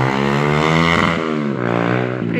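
Motorcycle engine heard while riding a footpath up toward the Gedong Songo temples, a steady loud droning hum with shifting pitch that runs continuously and close throughout, with no voices over it.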